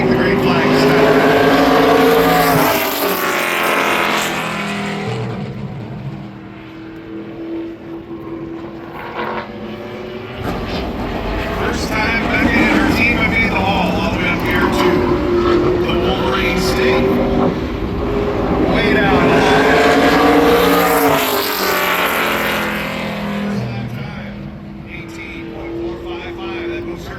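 An ARCA Menards Series race car runs a qualifying lap at Berlin Raceway, its engine droning loud and steady with rising and falling pitch as it circles, under continuous commentary from an announcer.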